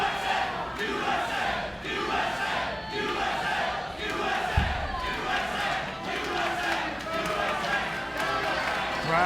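Arena crowd at a TNA Emergence 2024 professional wrestling Iron Man match in Louisville, Kentucky, a steady roar of chanting fans with rhythmic surges and a thump of ring impact near the middle.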